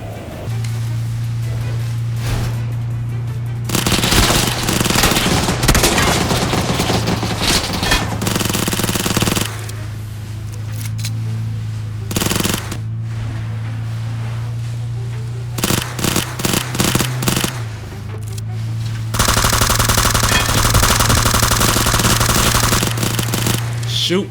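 Gunfire in the battle royale game PUBG comes in long bursts of rapid automatic shots and shorter volleys separated by brief pauses, loud and close over a steady low hum, with a player talking at times.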